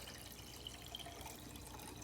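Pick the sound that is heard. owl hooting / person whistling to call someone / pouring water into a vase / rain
pouring water into a vase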